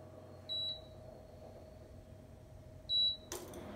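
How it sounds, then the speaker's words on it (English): An electric stove being switched on gives two short, clear electronic beeps a few seconds apart, followed by a brief soft click in an otherwise quiet kitchen. "Now I am going to switch on the stove and start cooking."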